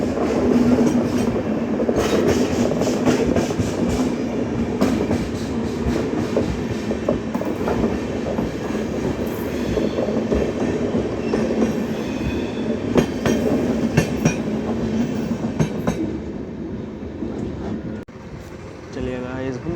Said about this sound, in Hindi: जामनगर कटरा एक्सप्रेस यहाँ पे हमें मिली है